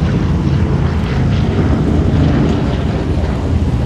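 A B-17 bomber at the Duxford Flying Legends airshow, its propeller engines giving a loud, steady, rumbling drone throughout.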